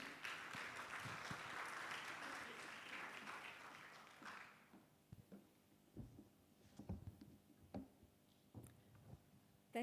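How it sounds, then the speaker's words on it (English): An audience applauds at the grand opening of an international seminar, the dense clapping filling the first half before thinning out into a quiet room with scattered knocks and shuffles. "let's give a round of applause to Ms."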